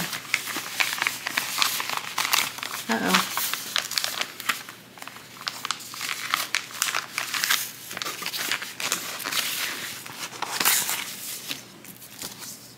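Plastic resealable bags of cross stitch kits crinkle and rustle continuously at close range, with dense handling crackles rising and falling throughout and no talk.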